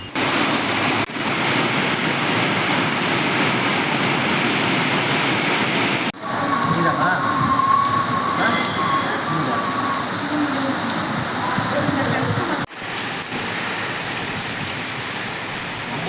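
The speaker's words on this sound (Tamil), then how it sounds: "பலத்த காற்றுடன் கூடிய கனமழை பெய்தது" Heavy rain with strong wind pours down steadily over Thiruvarur, a dense, loud and unbroken hiss of downpour with a few brief cuts.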